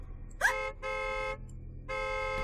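Car horns honk in the video game The Letter: three loud sustained blasts, the first short and the next two longer, with a brief shrill tone at the start and a low rumble beneath.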